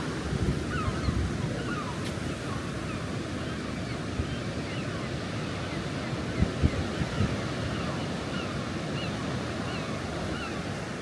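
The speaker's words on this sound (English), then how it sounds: "You can see the crashing waves down here." Sea waves crash on the shore at Bridlington on a winter day, a steady broad wash of surf mixed with wind buffeting the microphone, continuous and fairly loud throughout.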